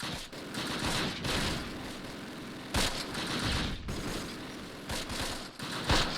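Tank and small-arms gunfire in the Close Combat wargame, a Normandy 1944 battle at Le Vieux Bourg: dense overlapping bursts and sharp reports rolling continuously, loud with no voices.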